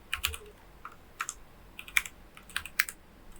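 Typing on a computer keyboard: irregular bursts of close, crisp keystrokes with short pauses between them, and no talking.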